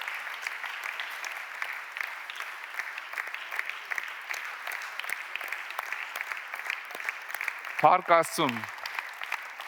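Audience applause in a church gathering, steady dense clapping from a crowd throughout, with a brief spoken phrase near the end over the clapping.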